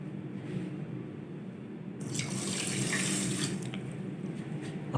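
Water is poured into a cooking pot on the stove to make sugar syrup for semolina and gram flour laddus, a soft splashing stream that starts partway in, swells for a second or two and then trails off, fairly quiet.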